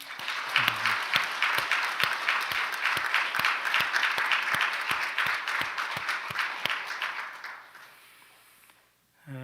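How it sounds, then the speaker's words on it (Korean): A church congregation applauds at a special spring evening service, a steady rhythmic clapping of many hands in unison that fades out toward the end, followed by a moment of quiet. "하나님께 영광의 박수, 감사의 박수 올리겠습니다."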